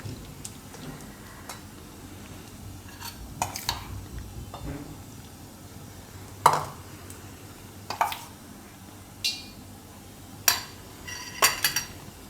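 A spoon stirs bitter gourd fritter (karela bhajiya) batter in a bowl, giving scattered clinks and taps against the rim over a soft, quiet kitchen background.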